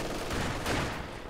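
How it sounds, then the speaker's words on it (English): MG42 machine gun fire in the Company of Heroes 2 video game, a brief dense rattle of rapid shots blending into a continuous burst. "I thought for a second Stone got MG42. No, Max still got it"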